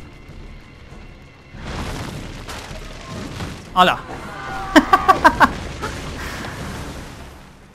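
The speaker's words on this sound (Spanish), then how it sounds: "Eran críos jugando con petardos." Firecrackers going off in the video game Assassin's Creed II: one louder bang, then a quick string of five sharp pops over rumbling game ambience, with a man exclaiming briefly.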